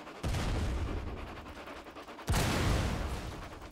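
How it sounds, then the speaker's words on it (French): Bombs striking a Titanic ship in a Roblox game: two heavy, booming blasts about two seconds apart, each followed by a dense roaring rumble that fills the clip at close, loud level. "Et ça c'était avant de prendre la dernière bombe."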